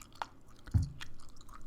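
Close, faint chewing of peppermint gum, with a few soft wet smacks and one louder bite-like crunch partway through, no talking.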